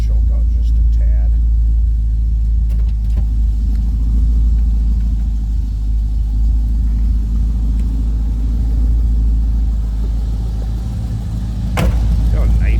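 A 1973 Pontiac Ventura engine idles while warming up with the choke pulled out slightly, a deep, steady rumble up close, its low throb running continuously with slight variations and a few small clicks.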